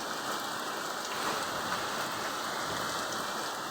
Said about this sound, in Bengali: আজকে বৃষ্টি হচ্ছে